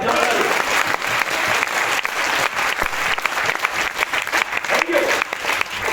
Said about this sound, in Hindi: ताली बजाओ ना यार